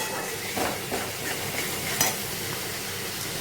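Cabbage, paneer and tomato fry in an oil-slicked pan with a steady sizzle, broken by a few scraping stirs and one sharp utensil clink near the middle; no voices.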